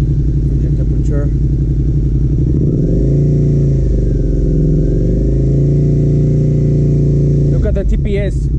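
A 2018 Suzuki SV650A motorcycle engine idles steadily up close just after an ECU flash, a loud continuous low rumble that shifts in pitch midway and holds, with brief clatter at the start and end.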